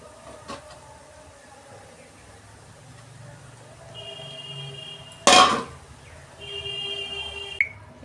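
A wok set down on a home kitchen stove during biryani and chicken cooking gives one sudden loud metallic clank midway, ringing briefly over a low room hum and faint steady tones.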